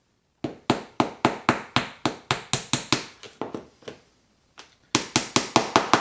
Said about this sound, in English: And just hammer them in until they're done.